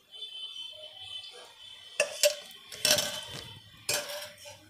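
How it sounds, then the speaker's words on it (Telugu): A frying pan set on the stove to fry prawns, with spoonfuls of oil added: a few close metallic clanks and spoon-on-pan clinks over a steady high hum, with no talk. "ఇప్పుడు రొయ్యలు వేపుకోవడానికి బాండీ పెట్టి 3 స్పూన్స్ ఆయిల్ వేద్దాం."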